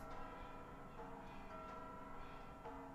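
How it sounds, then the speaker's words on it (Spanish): Many bells ring together in a dense, overlapping wash of tones, faint and distant, with occasional brighter strikes standing out, during Mexico's Independence Day celebration. "Están tocando un montón de campanas."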